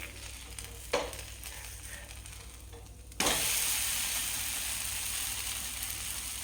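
Sprouted moong and gram dosa batter hits a hot pan and sizzles loudly and steadily, after two brief clanks and a short quieter stretch, and the frying hiss holds to the end.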